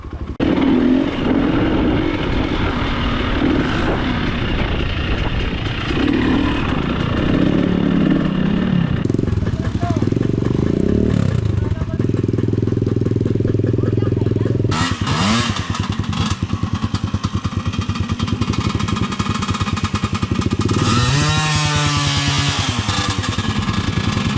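A nearby KTM EXC 300 two-stroke dirt bike engine buzzes and revs loudly on its first ride break-in, its pitch rising and falling in several throttle bursts, continuous from start to finish.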